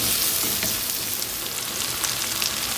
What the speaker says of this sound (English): I have added onion and tomato. Let it cook for about 3 to 4 minutes.